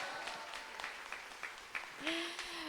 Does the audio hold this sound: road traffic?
no